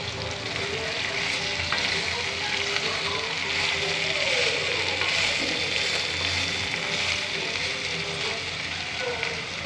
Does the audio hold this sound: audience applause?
no